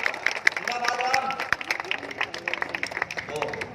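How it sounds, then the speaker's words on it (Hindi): Audience applause at a live poetry show in Jabalpur: a crowd clapping in a rapid, uneven patter, moderately loud, with crowd noise around it. "एक बार जोरदार तालियां बजाएं क्षेत्र के लोग"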